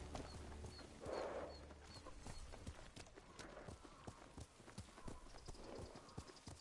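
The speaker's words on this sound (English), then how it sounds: "Here's my horse. There's my horse." Horse hooves clip-clop in a video game with a Mongol and Shogun setting, a quiet, steady walking rhythm of soft hoof taps beneath a faint background.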